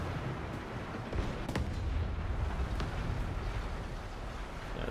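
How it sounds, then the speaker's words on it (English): Artillery fire in the War Thunder video game rumbles as a steady heavy low roar with a few sharp distant cracks scattered through it, fairly loud. "that was just artillery"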